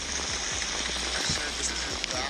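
Torrential downpour pounding on a lake and its surroundings, a dense, steady roar of rain with a few low thumps close by, constant and loud throughout.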